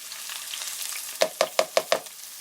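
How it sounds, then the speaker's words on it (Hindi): Onions and green chilies land in a hot wok over a soft steady sizzle, followed by five evenly spaced clattering strokes that stand out clearly above the frying. "कढ़ाई में हम प्याज और हरी मिर्च डाल देंगे"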